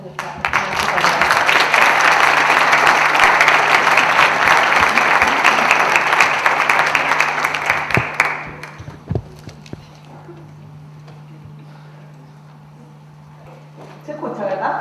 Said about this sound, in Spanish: Recibamos con un fuerte aplauso a nuestra psicóloga.